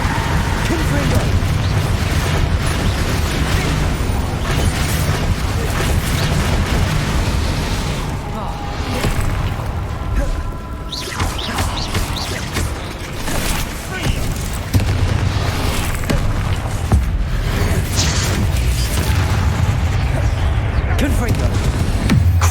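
Confringo blasting-spell explosions in Hogwarts Legacy on Xbox Series X boom one after another in a dense, continuous barrage of loud blasts and crackling bursts, with character voices calling out over the din.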